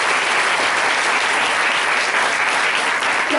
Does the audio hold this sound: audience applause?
yes